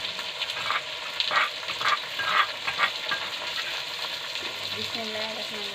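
Spices frying and being stirred in a hot handi for black pepper chicken, a steady sizzle with scraping stir strokes throughout, and a brief tonal clatter near the end.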